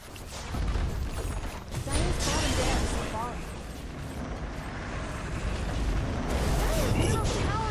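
Dire barracks collapsing in a Dota 2 match, a dense, loud rumble of crumbling stone with creaks and clanks that keeps going for several seconds.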